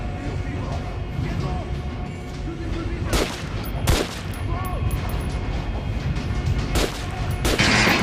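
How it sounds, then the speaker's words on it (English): Gunfire at training dummies in Metro Last Light, several sharp, loud shots spaced irregularly over continuous game ambience and a voice giving instructions. "Try shooting for the center of the regular dummy's chest."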